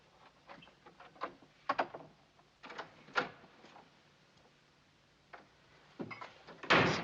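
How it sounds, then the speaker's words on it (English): Doors banging shut in an old Western frontier hotel, several sharp slams and knocks spaced irregularly, with the loudest, harshest impact at the end. "Stop slamming doors."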